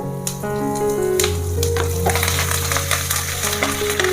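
About twenty dried red chillies and crushed curry leaves sizzle steadily in hot oil, with a few scraping stirs and a low background hum.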